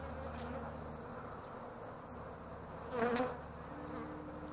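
Honeybees buzz steadily through a beehive inspection while brood frames are handled, a dense insect drone with a louder swell of close wings near the end, no talking.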